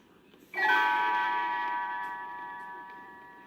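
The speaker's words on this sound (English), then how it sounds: "Tinker Bell rings her little bells like this" A single small bell chime, used as a page-turn signal on a read-along record, strikes once, clear and bright, its ringing tone slowly fading over a few seconds against faint background hiss.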